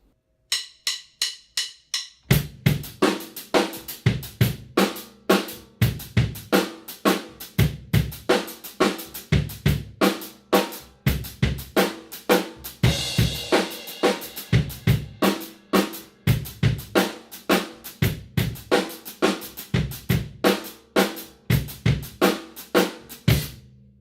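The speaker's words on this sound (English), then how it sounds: "Now we're going to play a sort of shuffle pattern with the hi-hat" A drum kit plays a shuffle pattern on the hi-hat in an odd meter, crisp repeated hits over bass drum and snare in a steady looping groove, loud and close with no talking.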